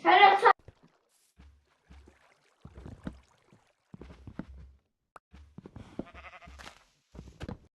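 Goats bleat in a short loud burst at the start, with a fainter bleat later, among soft footsteps and scattered quiet sounds.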